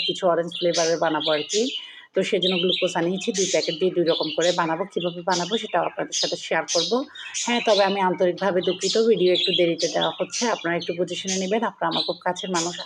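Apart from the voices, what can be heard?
pet birds chirping in the house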